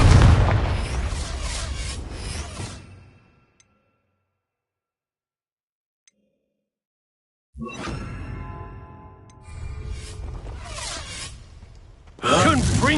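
A Confringo blasting spell from Hogwarts Legacy erupts in a loud booming burst with a whooshing tail, fading to silence before further crackling blasts and combat noise return.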